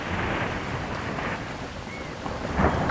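Heavy rain pours steadily outside a house while wind blows, with a rumble of thunder swelling near the end, a dense, continuous roar with no speech.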